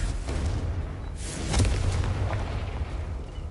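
Confringo blasting spell going off in the Hogwarts Legacy video game, a rumbling fiery explosion swelling in the middle over a steady low roar, with no voices.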